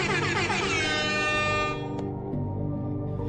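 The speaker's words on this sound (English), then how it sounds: "we hear an air horn when we win games in a log ride" A loud, blaring air horn from the video game Ultimate Custom Night sounds continuously, then cuts off abruptly, leaving a lower lingering tone and background hum.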